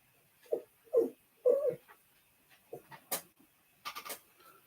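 A dog whimpers and whines in short, soft bursts, several quiet nasal cries spaced irregularly, heard close by in an otherwise quiet room.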